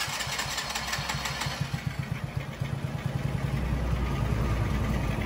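A motorcycle engine is started with the button and no throttle, catching and settling into a steady rhythmic putter throughout, close and moderately loud with no talk.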